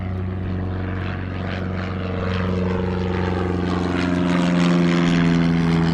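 Droning propeller-plane engine hums steadily, a low buzzing roar that grows slightly louder toward the end with no talking.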